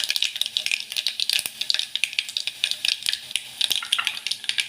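Asafoetida hits hot oil in a pan for a Kathiyawadi dahi tikhari, and a spoon stirs with rapid rattling clatter against the metal over a light sizzle, close and busy without pause.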